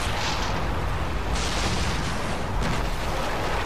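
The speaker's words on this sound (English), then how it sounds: "Did you see that explosion?" A continuous explosion roars in the Far Cry 3 video game, a dense, loud rumble of blast noise that fills the whole stretch without any voices.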